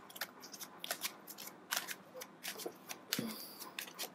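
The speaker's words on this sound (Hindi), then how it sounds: "मैं फिर से शफल करना चाहती हूँ।" Tarot cards being shuffled close by in irregular bursts of sharp, snappy riffles and flicks, with brief pauses between handfuls.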